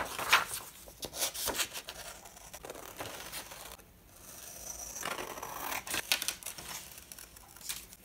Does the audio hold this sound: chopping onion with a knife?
no